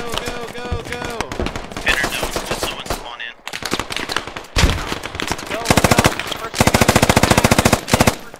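Rapid bursts of automatic rifle and machine-gun fire in the military shooter game Squad, loud and close, with dense rattling volleys and sharp single shots throughout, the heaviest sustained bursts near the end, and voices faintly under the firing.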